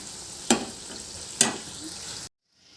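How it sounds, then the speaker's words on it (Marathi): Shankarpali frying in hot oil until reddish and crisp, a soft steady bubbling sizzle punctuated by two sharp clanks of a utensil, then abrupt silence. "ही शंकरपाळी आपली लालसर अशी खरपूस तळून झाली आहे"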